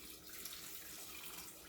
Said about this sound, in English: I'm gonna get some more of this water